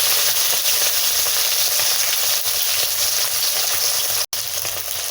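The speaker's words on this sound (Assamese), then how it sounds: "তেলখিনি গৰম হোৱাত এয়া মই এতিয়া মাছখিনি দিছোঁ।" Small fish frying in hot oil in a wok, a steady loud sizzle with a continuous hiss that holds unbroken throughout, with no talking over it.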